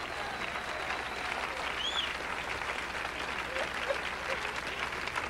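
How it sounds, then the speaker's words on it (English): Steady applause from a live audience for a band after a song, a dense wash of clapping that holds at even strength throughout, with a few faint voices mixed in. "How about a big round of applause for our band?"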